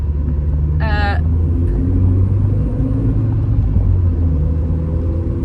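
A Volkswagen Golf GTI Mark III drives with a steady, loud low engine rumble throughout, a brief high tonal chirp rising over it early on.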